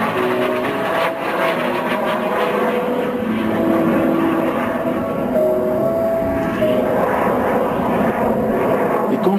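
Aerobatic propeller airplanes of the Patrouille Tranchant flying at the Rennes airshow, a continuous loud engine drone rising and falling as they pass, with a commentator talking over it.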